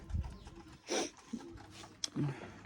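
Pigeons, including a pair of black pigeons, cooing softly in short throaty bursts, with scattered rustling and a brief sharp click between calls.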